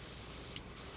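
Thinned model paint hisses from an airbrush-style spray gun in a spray booth, a steady bright spray broken by one short pause before resuming, close and alone.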